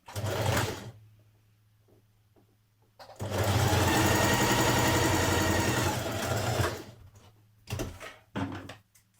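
A sewing machine stitches a jersey dress seam: a short burst at the start, then one long steady run of stitching, followed by a few quick stop-start bursts, close by and alone.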